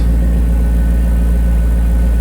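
BMW E34 540i V8 on factory exhaust, idling steadily with a deep, loud, even rumble, heard close and alone.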